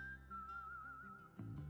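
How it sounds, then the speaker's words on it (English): A single pure whistled tone glides and wavers softly in the Bud Spencer and Terence Hill video game Slaps and Beans, over quiet low background music, then gives way to a fuller musical passage. "I like the whistling."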